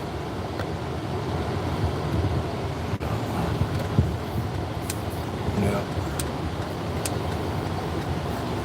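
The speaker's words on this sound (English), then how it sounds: "Now I gotta wait for all this traffic to come by." Road traffic passing by, a continuous rumble of cars and wind noise at the roadside with occasional louder passes and a voice speaking over it.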